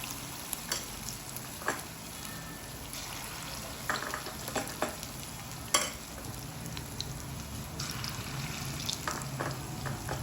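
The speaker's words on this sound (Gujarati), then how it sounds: "ધીમા તાપે એને તળવા દઈશું" Jowar and urad dal fritters (gota) frying in oil on low heat: a soft, steady sizzle broken by scattered crackles and pops, fairly quiet, with no talk.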